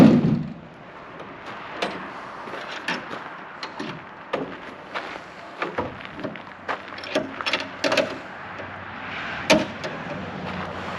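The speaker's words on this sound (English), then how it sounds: "we'll go ahead and close this up. It is on a garage door, so it's easy to lift" Thumps and rattles of a roll-up garage door on a chicken coop being pulled down and latched, a string of knocks and clanks over several seconds.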